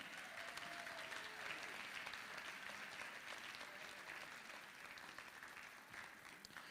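A ballroom audience at a Hawaiian slack key guitar festival gives a steady round of applause for a guitarist, with dense even clapping continuing throughout at a faint, distant level.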